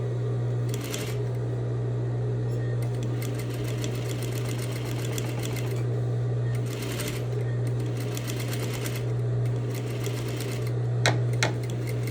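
A sewing machine stitches in the ditch on folded bias tape, its needle running in a steady rapid whir that holds through several bursts, near and alone under a constant low motor hum.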